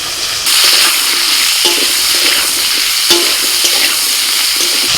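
Potato, radish and cauliflower stalks drop into hot oil with dried chili and five-spice tempering, bursting into a loud, close sizzle that continues as a dense crackling fry with faint stirring scrapes.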